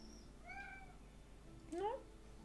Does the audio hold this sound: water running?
no